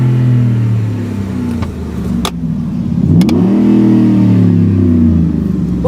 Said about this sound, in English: you've got a good sounding exhaust.